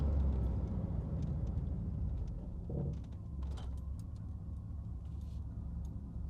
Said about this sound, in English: I'm gonna hit the brakes pretty hard at about 40 miles an hour